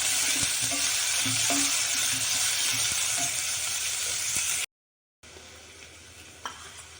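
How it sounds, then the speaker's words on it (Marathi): Chopped onion sizzles steadily in hot oil in a pan after cumin seeds, with stirring clinks from a spoon, loud and close; sound cuts out briefly then resumes quieter. "आता कांदा टाकून घेऊ कांदा चांगला लाल होईपर्यंत तळू द्यायचं"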